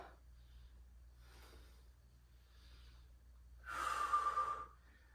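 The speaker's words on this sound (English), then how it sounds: "Nice big exhale on the row" A strong, breathy exhale bursts out near the end during a rowing exercise in a workout, following quieter breaths, loud and close against a low steady hum.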